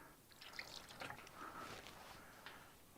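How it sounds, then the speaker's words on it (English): Water dripping and trickling while a Honda motorcycle carburetor is washed during a restoration, with light splashes and drips scattered over a steady faint wash of water, fairly quiet and with no talking. "Hear the water going splish splash."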